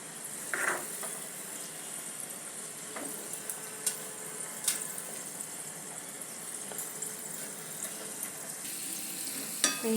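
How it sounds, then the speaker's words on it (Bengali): Lentils fry in oil for chanachur, a faint continuous crackling sizzle with scattered small pops and clicks throughout, heard close and alone. "এবার আমার ডালটা ভাজা হয়ে গেছে।"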